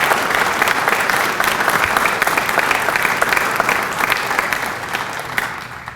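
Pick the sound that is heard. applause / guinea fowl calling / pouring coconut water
applause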